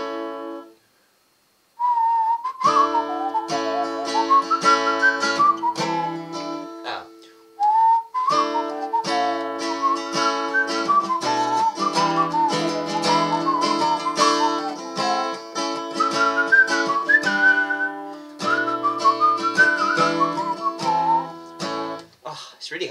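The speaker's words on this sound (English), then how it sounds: "hard to whistle and play at the same time." Someone whistles a bright melodic tune over steadily picked Celtic-style acoustic guitar with a partial capo, the whistle weaving clearly above the strummed and plucked notes for over twenty seconds, with brief pauses between phrases.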